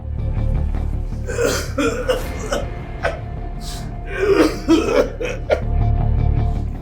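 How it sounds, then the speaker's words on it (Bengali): An asthma patient coughs persistently at close range, harsh hacking bursts broken by gasping, wheezy breaths and throat sounds, repeating in uneven clusters. "এই কতদিন ধরে কাশিটা খুব বেড়ে গেছে স্যার"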